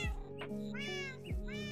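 Cats meow in a Minecraft CrazyCraft modpack game, with two clear, fairly quiet meows about a second apart.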